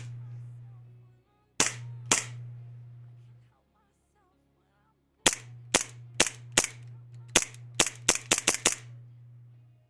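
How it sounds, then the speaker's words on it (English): A green gas airsoft pistol fires into the ground: two spaced sharp cracks, then a quick run of about nine snappy pops, close and loud over a steady low hum, with no talking. "Still gonna fire it into the ground."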